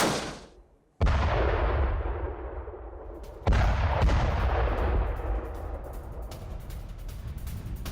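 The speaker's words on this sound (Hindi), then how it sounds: "रूस पर यह आर्टिलरी अटैक।" Artillery fire on a war front, a few heavy booming blasts, each followed by a long rumbling decay, loud and fairly close, with no speech.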